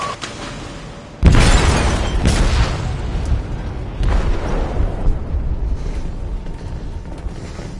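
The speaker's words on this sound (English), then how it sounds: "They detonated an explosive in the hold." An explosive detonates in the hold of a ship with a sudden heavy boom, followed by a long rumbling roar, a second surge a few seconds later, and churning mechanical noise as it dies away.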